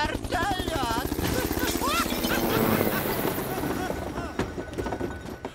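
A cartoon helicopter's rapid rotor chop thumps steadily throughout while voices shout and talk loudly over it.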